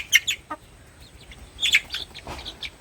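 Chickens in a mountain village yard cluck and chirp in short bursts while being fed ragi, close and fairly clear over faint outdoor ambience.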